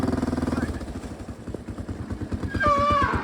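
A 1984 Honda TRX 200 ATV engine running close by, a rapid pulsing putter that revs up and changes pitch toward the end.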